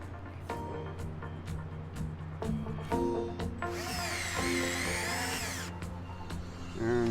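A power drill driving fasteners into a control panel on a Western Instruments magnetic coil, with repeated short whirring bursts and a longer steady high-pitched run in the middle, close and moderately loud.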